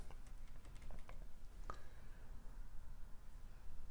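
Someone types a name into an online form on a computer keyboard. Quick, irregular keystrokes click faintly over a low background hum.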